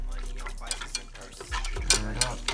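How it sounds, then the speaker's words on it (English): Spoon stirring healthy hot cocoa in a pot or mug, with several light clinks of metal on the vessel over a steady low hum, close and soft. "stir it up"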